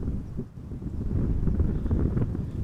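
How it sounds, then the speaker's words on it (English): Gusty wind buffets the microphone at Amsterdam Schiphol Airport, a steady low rumbling roar that swells and eases without break. "So the wind has been picking up over the morning a little bit."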